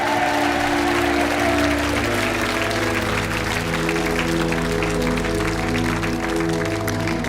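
Studio audience on the French game show Money Drop breaking into loud, sustained applause, a thick continuous clatter of clapping that holds steady throughout, with music sustained underneath.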